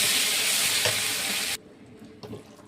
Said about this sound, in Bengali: হয়ে গেল সব মশলা দেওয়া, ভালো করে কষাবো।